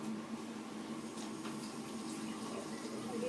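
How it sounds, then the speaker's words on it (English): Water runs steadily from a tap as hands are washed in a sink, a soft continuous hiss at low level with no talking. "Please allow me to wash my hands."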